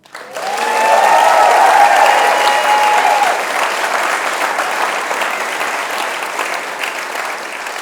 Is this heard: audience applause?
yes